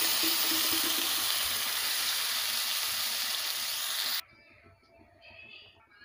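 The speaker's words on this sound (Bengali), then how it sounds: "এবারে দিয়ে দেবো পরিমাণ মতো জল।" Water poured into a pan of sautéed vegetables for a katla fish curry with potatoes, a loud close rushing splash for about four seconds that stops abruptly, leaving faint kitchen clatter.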